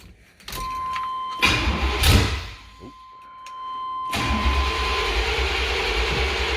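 A 1988 Chevrolet Silverado truck's engine cranks with a short whirring burst, stumbles and dies, then catches after another crank and settles into a steady running rumble nearby.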